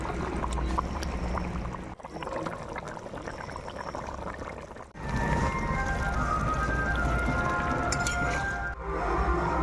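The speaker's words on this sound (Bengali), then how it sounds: "এখন মাছ আর আমি ডালের বড়িগুলো দিয়ে দিচ্ছি" Fish and lentil dumplings simmer in an eggplant and tangra fish curry pan. The liquid bubbles and gurgles softly and steadily at low level, with a couple of brief pauses.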